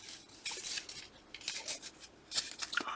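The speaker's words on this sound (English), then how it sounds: "Need scissors to cut that." Small thinning scissors snip through a green paper ticket in several quick, crisp cuts, close by and without talk.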